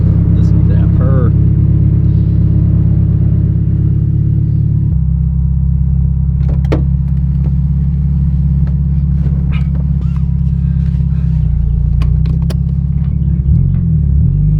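Turbocharged Honda S2000 engine idling nearby with a deep, steady burbling purr, its pitch dropping slightly midway and shifting near the end, under a speaking voice.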